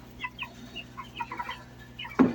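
Master Grey chickens in their new coop, a converted rabbit cage, giving soft scattered clucks and chirps close by, ending in a brief louder rustle.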